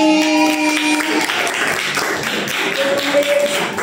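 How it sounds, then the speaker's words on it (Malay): A classroom of students clapping for themselves, with a dense, steady patter of many hands under background noise and a faint tone. "Okey, berikan tepukan untuk diri sendiri."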